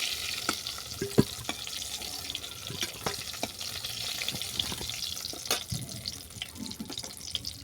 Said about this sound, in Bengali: এই তেলের মধ্যে দিয়ে দিলাম শুকনো লঙ্কা